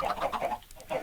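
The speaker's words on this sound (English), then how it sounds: "This is gonna make chickens appear in here." Chickens in the Minecraft FTB modpack give a string of short, clucking bird calls in quick succession, fairly close and moderately loud with no talking over them.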